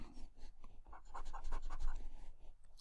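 Pen scratching and erasing on paper, a soft steady run of close, quiet strokes with no voices.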